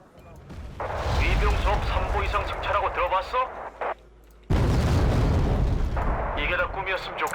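Artillery fire from the war video game Wargame: Red Dragon, a loud barrage of booming shell blasts and crackling explosions in dense bursts, with a brief pause before a fresh heavy volley.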